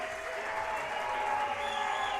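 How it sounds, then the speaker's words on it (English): A large crowd applauds and cheers at a junior boys' 3m springboard diving final in Croatia, a steady, loud wash of clapping and voices filling the whole moment. "It's getting a big cheer from the crowd."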